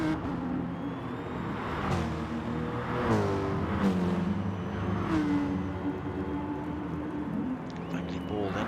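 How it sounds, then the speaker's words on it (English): BMW Gr3 race car engine droning and revving as it drifts through a corner in a racing game at Blue Moon Raceway, steady mid-level motor tone with passing cars, under continuous commentary. "Just drifting the rear end of that BMW though."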